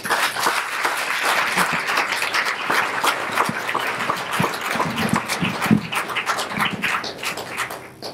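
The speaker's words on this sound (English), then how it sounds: "So big round of applause for Dan Aldridge." Audience applause at a public talk on policing and Black Power in Detroit, steady dense clapping through the whole stretch with no talk over it, a few sharper claps standing out near the end.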